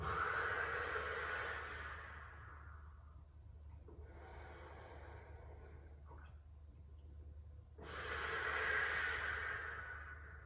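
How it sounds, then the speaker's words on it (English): Slow, deep breaths exhaled through the mouth during a cool-down stretch, two long airy breaths near and clear with a quieter pause between them. "exhale through the mouth."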